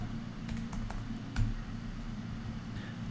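Someone types code on a computer keyboard: a few soft, scattered keystrokes over a low, steady room hum, faint and close.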